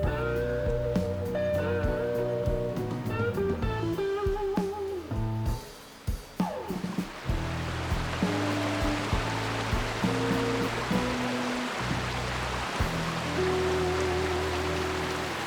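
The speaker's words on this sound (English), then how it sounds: "There's a very nice bridge over a very nice creek." A creek flows under a footbridge on the Colorado Trail, with a steady broad rushing of water that grows fuller in the second half, after an earlier stretch mixed with tonal sounds.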